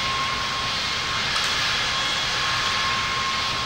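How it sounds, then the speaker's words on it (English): Steady loud airliner engine drone while taxiing to the runway in a pilot training flight simulator game, a continuous broadband roar with a faint steady tone and no talk over it. "We're now taxiing to the runway."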